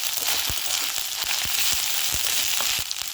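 Chopped green chillies frying with ginger paste in a pan for butter prawns, giving a steady loud sizzle with brief stirring taps throughout.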